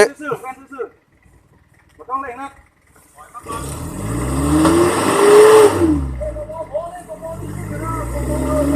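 A 4x4 truck's engine revs hard in a deep forest on a high mountain, surging and climbing in pitch for several seconds after people talk nearby, then easing down.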